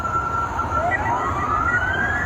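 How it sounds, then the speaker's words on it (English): Emergency sirens wail at midnight with a rising, sweeping tone over a steady hum of traffic, heard at a moderate distance. "There's sirens blaring"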